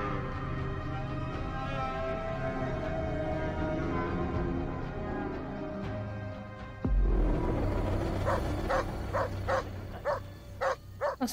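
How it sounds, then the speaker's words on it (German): Dog barking in Assassin's Creed Origins, a few sharp barks after a sudden change in the game's ambient scene, standing out over a steady mix of background game sound. "Was hat denn der Hund?"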